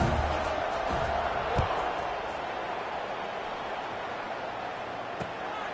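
Crowd noise at a college football stadium before kickoff, a broad steady roar of many voices with a few faint thumps and shouts, heard at a distance and kept up throughout.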